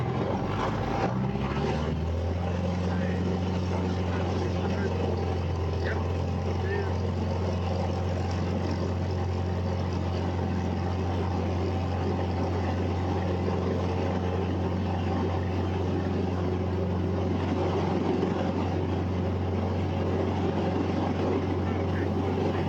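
A light aircraft rolls down runway 04 on its takeoff run at Longreach, with a loud steady engine and propeller drone that rises slightly as power builds and then holds constant, close and continuous throughout.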